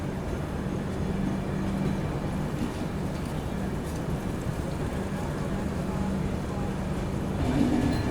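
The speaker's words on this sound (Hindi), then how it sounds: "चलिए दोस्तों निकल गई अपनी ट्रेन जो है टूंडला जंक्शन से।" Brahmaputra Mail passenger train pulling out of Tundla Junction, heard as a steady, continuous rumble and rattle of rolling stock from on board, with faint voices underneath.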